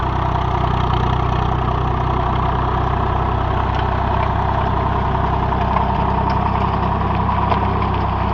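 A Swaraj 744 FE tractor fitted with a GS 36 blade runs steadily through a dusty field, its engine a loud, continuous, even drone and rumble that holds throughout with no talk.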